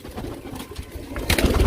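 Domestic desi pigeons of an old breed coo in a loft, soft repeated throaty calls close by, with a louder burst of cooing and rustling toward the end; no speech.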